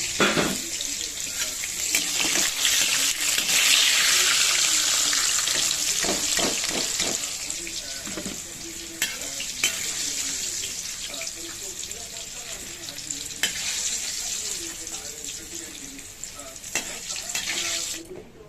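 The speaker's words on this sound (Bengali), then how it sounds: "ভালো করে নেড়ে চেড়ে এটাকে লাল করে ভেজে নেব" Steady, loud sizzling of potatoes frying in hot oil, a dense crackling hiss throughout, with occasional scraping and stirring clatter of a utensil in the pan.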